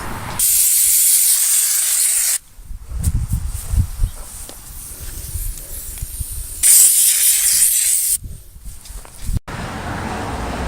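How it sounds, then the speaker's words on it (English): Bursts of loud hissing spray from a pressurized insecticide sprayer treating around the base of a house for carpenter ants, two long blasts with quieter rustling and handling noises between them. "spray around the base of the house, anywhere the ants maybe have a way of getting in"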